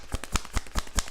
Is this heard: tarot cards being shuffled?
yes